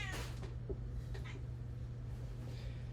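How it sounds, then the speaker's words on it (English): A house cat meows near the start, a short rising yowl followed by a few fainter cries, heard quietly indoors over a steady low electrical hum. "my cat is going crazy right now."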